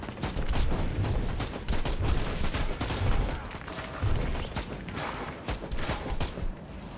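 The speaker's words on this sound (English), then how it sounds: "Oh, that was a bomb." Repeated blasts and rapid gunfire in the sci-fi action RPG Warhammer 40k Inquisitor Martyr, dense and loud throughout with bursts of heavy booms rolling over one another, no talking.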